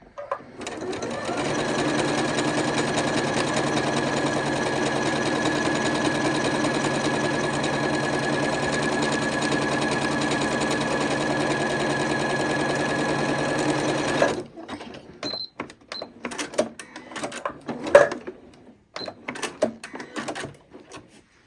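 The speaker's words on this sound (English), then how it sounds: "I'm just going to select 1 and start stitching." A Janome Horizon Memory Craft 8200 QC sewing machine runs in one steady, loud whirring burst of stitching for about fourteen seconds, then stops, leaving scattered clicks and light handling noises.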